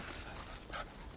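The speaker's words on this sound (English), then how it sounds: "That's a really weird bark she's doing." A dog playing in snow gives an odd, strained bark mixed with whimpering yips, close by and fairly quiet, in a short burst.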